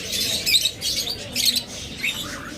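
High, thin squawks and peeps from doves with chicks come in repeated bursts, close and fairly loud, over a light background hum with no talking.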